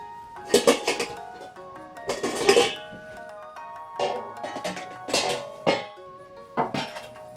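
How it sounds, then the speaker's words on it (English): Steel parts from a 1916 W.L. Gilbert mantle clock are dropped into a metal cleaner dish, making bursts of close metallic clinks and rattles separated by short pauses. "Now we'll get the dish from the cleaner and we'll put the parts into it."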